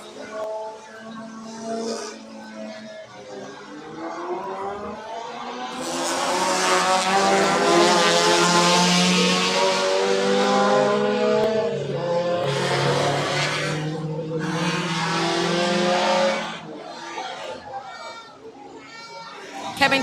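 Race cars at the JRDC Carnival of Speed 2025 roar past on track, their close, loud engine notes climbing and sliding in pitch as they pass, then receding before another surge of engine sound.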